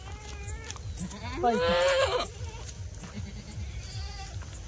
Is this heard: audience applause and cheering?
no